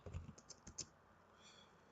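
A few quick keyboard key presses in a short irregular burst, then a faint lighter tapping; quiet, close by, no talking.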